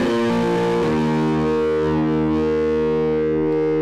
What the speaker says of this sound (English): run the signal from the Screamer distortion pedal into the Twang amp, an amplifier model that produces a classic rich tube sound